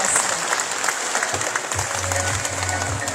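Applause from the audience at a 31st anniversary celebration for TESDA in Nueva Ecija, a steady even patter of clapping filling the room throughout, moderately loud, with no voices over it.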